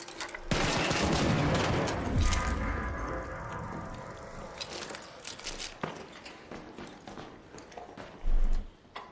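Turret gunfire in the game Arc Raiders: loud bursts of rapid fire for several seconds, then scattered shots and mechanical clatter, ending with a heavy low thump.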